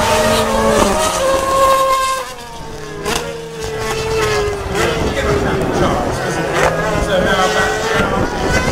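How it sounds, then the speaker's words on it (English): A Ford Fiesta rally car driven hard around a track, its engine revving high and shifting through gears with a sustained racing roar and brief tire squeal, loud and close under a commentator's voice. "Ken throwing the uh, Fiesta around."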